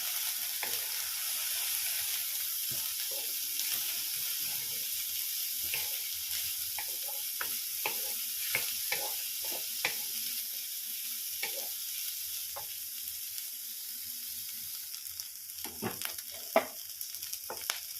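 Vegetables for masala quinoa khichdi, including corn, cabbage, cauliflower, carrot and capsicum, sizzle softly in a pan, with intermittent scraping stirs and light clinks of the utensil.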